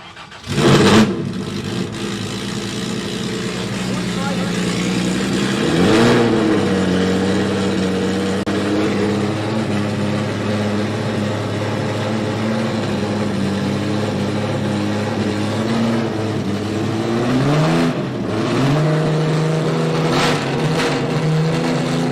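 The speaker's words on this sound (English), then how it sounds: "It's hard to believe that's a 6-cylinder engine." A six-cylinder race car engine starts with a sharp burst, then idles with a deep rumble, rising in a couple of revving surges.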